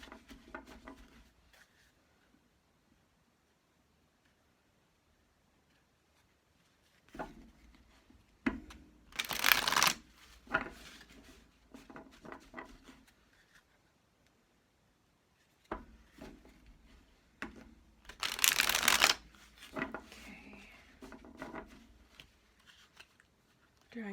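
A large tarot deck is shuffled in two separate bursts of rapid riffling card flutter, close and crisp, with quieter handling rustles and pauses of near-silence between them.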